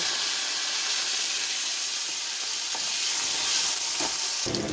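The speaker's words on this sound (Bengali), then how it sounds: "ওই তেলে সজনে ডাটাগুলো একটু ভেজে নেব" Drumstick (moringa) pieces fry in hot oil with a dense, loud, hissing sizzle close by, steady throughout, with a couple of faint utensil knocks near the end.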